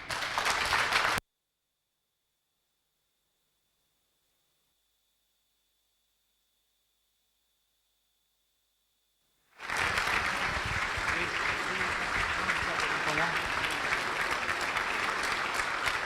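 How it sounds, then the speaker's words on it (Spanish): An audience at an international irrigation seminar bursts into applause after a presentation. A brief burst is followed by a long silent gap, then dense, steady clapping resumes and continues to the end. "Yo pido un aplauso para Mari."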